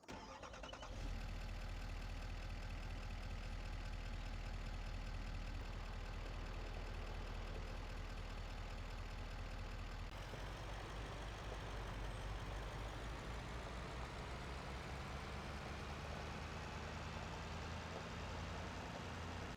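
A truck in Farming Simulator 25 pulls a trailer, its engine humming steadily throughout. The pitch shifts and then rises gradually as it accelerates, with no speech.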